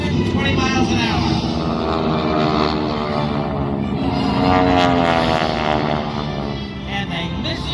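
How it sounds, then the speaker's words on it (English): Eight 600-horsepower World War II propeller airplanes approach head on at a New York airshow, a loud, sustained engine drone with shifting pitch as they close, with faint talk underneath. "4 600 horsepower World War II airplane from the left, 4 from the right, approaching head on, nose to nose, closing at over 320 miles an hour."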